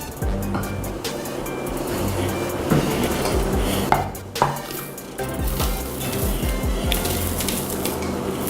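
Crumbly peppermint crunch bar crust being tipped and scraped into a baking dish, with rattling, scratchy scrapes and small knocks against the dish, close by and uneven in rhythm.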